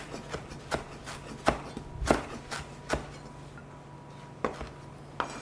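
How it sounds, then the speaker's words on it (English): Fresh garden parsley chopped finely with a knife on a cutting board, giving a string of sharp, irregular knife strikes, close and fairly quiet, with no talking. "what I'm going to do is chop it up fine"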